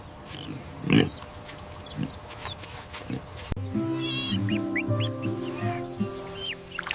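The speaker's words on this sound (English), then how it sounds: "This is a pig." A pig grunts and squeals in a farmyard, with a few short snorts, then a busy stretch of overlapping animal calls and clucking-like chatter close by.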